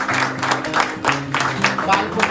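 A crowd at a club gathering at the Yamai Devi Temple in Aundh, Satara, claps loudly in thanks, dense rapid clapping throughout with a voice speaking over it.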